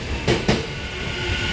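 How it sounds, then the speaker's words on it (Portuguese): A Japanese metro train pulls into the station with a steady rumble and a couple of sharp rail clacks, heard close from the platform. "Ó o trem chegando."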